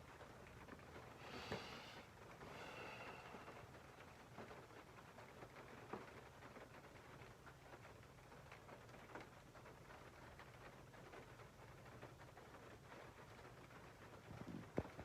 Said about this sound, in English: sounds like it's raining. I love that sound. It is raining.